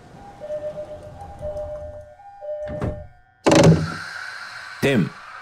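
Doors of an E217 series commuter train closing on the Yokosuka Line in JR East Train Simulator: a chime and announcement voice lead into a sharp thunk, then a second door clunk, close and clear.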